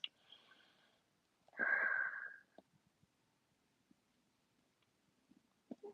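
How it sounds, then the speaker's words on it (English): Deep breathing during a yoga pose: a brief soft intake, then a longer, louder airy breath lasting under a second, followed by quiet with faint small rustles and another short breath at the end. "So one or two more breaths."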